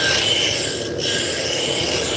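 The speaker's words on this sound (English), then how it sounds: "I'm using a roughing gouge just to get down close to the correct diameter" Roughing gouge cutting a spinning oversized wood spindle on a lathe, a steady loud rasping scrape that continues throughout with a brief dip midway, no talk.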